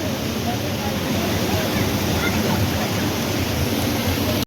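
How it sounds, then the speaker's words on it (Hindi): Steady roar of a mountain waterfall amid snowfall, a broad, even rush of falling water that stays loud and close without a break, with talk underneath. "ये झरना जो बह रहा है।"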